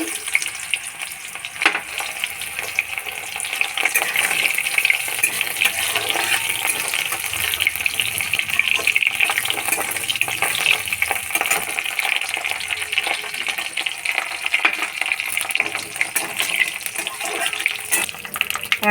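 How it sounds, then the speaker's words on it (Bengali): Dried lentil dumplings (bori) fry in hot oil in a home kitchen, making a loud, continuous sizzle with frequent light clinks and scrapes from stirring. No one speaks. "বড়িটাকে ভেজে নিচ্ছি"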